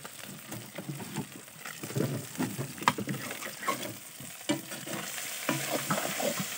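Fish frying in oil in a pan cooked outdoors in the Sundarbans gives a soft, close sizzle with irregular stirring and scraping sounds throughout.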